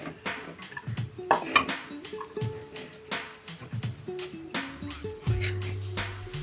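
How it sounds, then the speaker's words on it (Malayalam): Roasted grated coconut mixture scraped from a pan onto a plate, with a series of close metallic clinks and spoon scrapes against cookware, irregular and fairly soft. "ഇനി അത് നമുക്ക് ഒരു പ്ലേറ്റിലേക്ക് മാറ്റാം."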